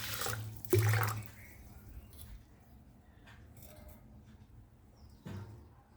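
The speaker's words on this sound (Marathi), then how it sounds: "त्यामध्ये आता आपण दोन ग्लास पाणी घालून घेऊया" Water is poured from a glass onto washed masoor lentils in a pot in a home kitchen: a loud splashing burst near the start, a quieter trickle, then a brief second splash near the end.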